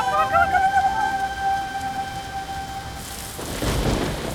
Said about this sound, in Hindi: देखो ना कितने जोरों की बारिश हो रही है